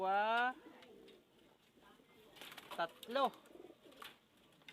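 A pigeon gives soft cooing calls among faint background noise, with a brief loud voice at the start.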